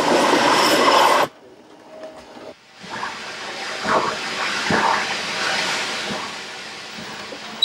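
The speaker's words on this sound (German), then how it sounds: "Die Lokomotive wird auf Touren gebracht." A steam locomotive of the Zürcher Oberland steam railway being worked up: a loud burst of hissing steam stops abruptly, followed by a steady mechanical rumble and hiss with periodic soft puffs and clanks, close by.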